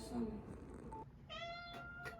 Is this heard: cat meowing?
yes